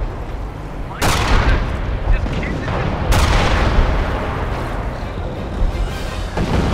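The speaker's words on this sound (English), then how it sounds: "We got ground troops firing on us!" Ground troops exchange gunfire in the World War II strategy game Company of Heroes: Tales of Valor. Loud booming blasts land with heavy rumbling tails, and a second big boom follows over sustained crackling fire.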